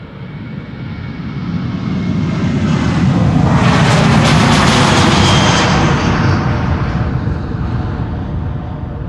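A 13-year-old KLM Boeing 737-800 jet takes off at Schiphol Airport. Its engine roar builds to a loud, broad peak mid-way and then holds steady and strong, with no voices.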